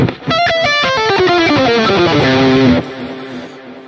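An electric lead guitar with reverb and delay plays a fast descending run of notes that settles onto a sustained bend, then a wet tail rings out and fades, loud and alone.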